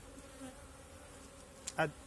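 Honeybees hum faintly at a hive in a quiet setting, with one brief, louder buzz passing close near the end.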